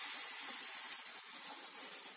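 Pancake batter hissing in a hot frying pan, a soft continuous crackling sizzle, faint and steady with no voices.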